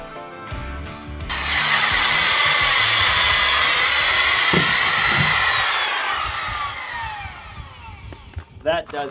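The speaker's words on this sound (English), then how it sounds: "I had to run up to the hardware store and pick up a new flush cutting bit for our router." A router fitted with a new flush-cutting bit cuts plywood, a loud, steady high-pitched whine that starts abruptly after about a second and holds before winding down with a few knocks at the end.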